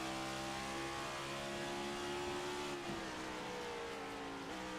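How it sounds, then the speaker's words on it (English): A race car at New Hampshire circuit runs through the gears into a corner entry, its steady engine note dropping sharply twice as downshifts land, heard alone at a moderate distance with little engine braking. "You hear him working the gears, not really using a whole lot of engine braking."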